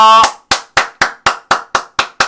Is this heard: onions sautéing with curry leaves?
no